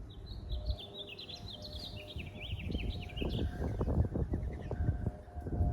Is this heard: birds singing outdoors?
yes